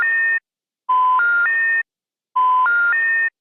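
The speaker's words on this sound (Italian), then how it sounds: "La suoneria del cellulare." A mobile phone ringtone plays a short electronic melody of stepped rising beeps, repeating in clean bursts separated by brief silences, loud and close with no voices.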